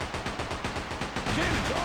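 Rapid, rhythmic booming bursts of ship cannons firing in the video game Like a Dragon: Pirate Yakuza, a fast volley of thuds in quick succession that ends in a sustained rumble.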